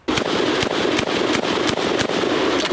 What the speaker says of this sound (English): Yes, I was slam firing.